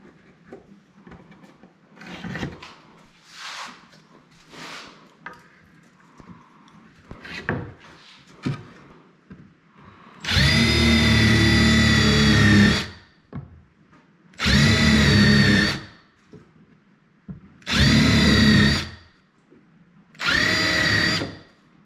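Power drill driving 1 5/8 inch construction screws into wooden boxes for a folding BBQ prep table: four loud, close whirring bursts of a few seconds each, separated by pauses, after quieter handling knocks and scrapes.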